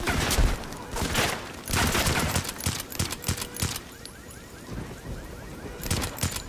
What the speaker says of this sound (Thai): ม่ค่อยชอบปืนมีเก็บเสียงแต่ก็เอา ยิงเงียบดิ